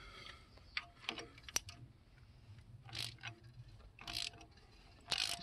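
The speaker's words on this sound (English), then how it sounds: "That bolt just does not like to snug up." A stubborn bolt is snugged down with a hand ratchet during a cam install, giving several short bursts of clicking spaced a second or so apart over a low background hum.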